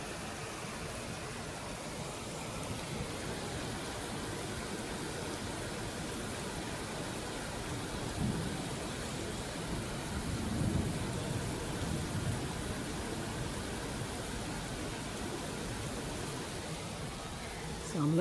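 Rain falls outside an apartment, seen through a gate, as a constant soft hiss of drops with a faint low rumble underneath, holding steady for the whole stretch without any clear voices.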